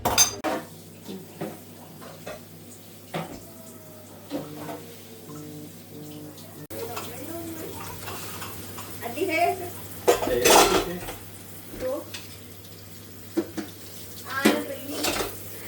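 Dishes and utensils are washed by hand with running water: metal pots and cutlery clatter and clink repeatedly, with splashing and occasional voices in the background throughout.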